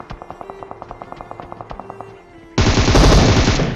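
Rapid automatic gunfire in a battle royale mobile game, a steady burst of evenly spaced sharp shots followed after a brief lull by a loud, dense blast of gunfire and explosions, with no speech.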